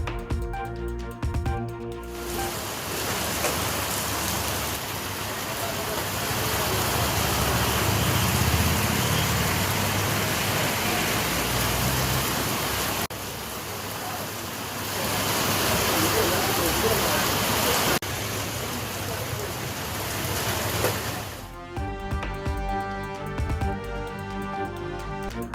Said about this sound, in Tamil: இரவில் பலத்த காற்றுடன் கொட்டி தீர்த்த கனமழை